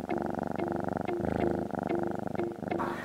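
A domestic cat grooming itself, scratching and licking in a steady rapid rhythm, close and fairly loud, with a purr-like continuous rumble underneath and no talking.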